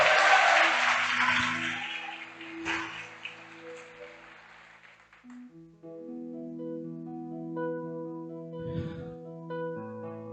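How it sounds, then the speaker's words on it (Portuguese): A church congregation claps together in dense, loud applause that gradually thins and fades out, giving way to sustained musical tones. "Aplaude, aplaude o Senhor."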